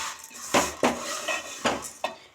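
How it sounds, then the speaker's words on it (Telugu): A metal ladle scrapes and clinks against a pan while flattened rice (atukulu) toasts in a little oil, giving four or five sharp close knocks in an uneven rhythm. "ఇలా అటుకులు వేసుకున్న తర్వాత గరిటెతో తిప్పుకుంటూ ఉండాలి."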